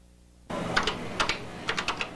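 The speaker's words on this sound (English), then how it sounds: "type in this short little function." Typing on a Color Computer keyboard while a short function is entered, with a cluster of distinct, fairly close key clacks in an uneven rhythm starting after a quiet moment.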